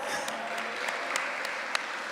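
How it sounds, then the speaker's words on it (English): Applause from the audience at an inter-primary schools debating championship, a steady wash of many hands clapping together in a hall, with a few sharper individual claps standing out. "Give them a round of applause."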